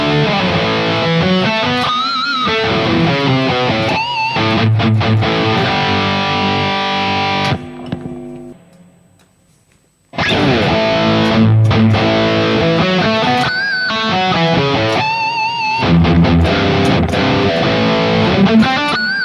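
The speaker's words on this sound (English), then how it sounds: "my favorite, the hall reverb, dark setting, sounds like this" Electric guitar played through a multi-effects pedal on a dark hall reverb setting, distorted chords and runs ringing with a long wash, pausing briefly mid-phrase before resuming, loud and without talking.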